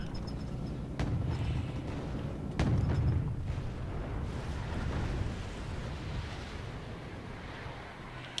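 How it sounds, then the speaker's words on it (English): Artillery fire in Wargame: AirLand Battle: several heavy booms land at uneven intervals, and each leaves a rumbling tail over a low background of battle noise. "artillery being fired on the MI2 is trying to neutralise a point"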